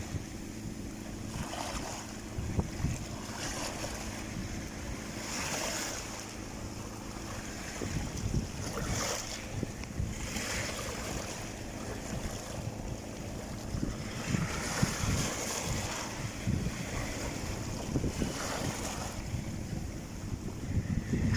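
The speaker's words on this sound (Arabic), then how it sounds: "الامواج" Sea waves wash against the shore in repeated surges under steady wind buffeting the microphone, a low rumbling roar with periodic swells and no voices.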